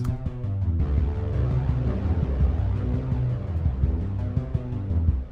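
A busy electronic synth passage in GarageBand, recreating Stranger Things music, with rapid repeating low notes and a brighter layer joining after the first second, played steadily without pauses.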